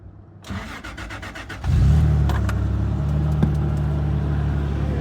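A car engine cranks after a fuel pump replacement, clicking and turning over briefly before catching and settling into a loud, steady idle close by.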